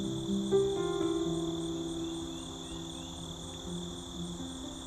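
Insects chirp in a late summer meadow near farm fields, a steady layered chorus of high, continuous trilling with some lower pulsing calls, holding a constant level throughout with no voices.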